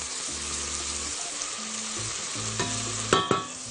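Minced meat frying in a pan sizzles steadily while onion is added, with low scraping and stirring, a couple of sharper clatters of a spoon near the end; no talking.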